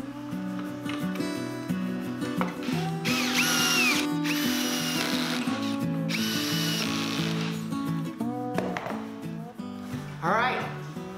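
A power drill with its torque clutch set drives screws into plywood closet shelving, whirring in several loud bursts with ratcheting clutch clicks, with someone talking over and between the runs.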